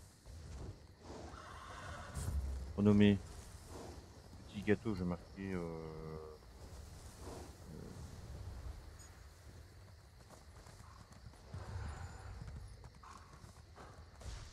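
A horse mount in a PC video game gives a short whinny and a run of hoof clip-clops, with a player's voice talking over and around it.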